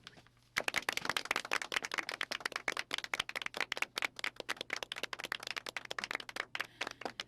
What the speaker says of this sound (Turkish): O içeri girince hepimiz birden alkışlayacağız tamam mı?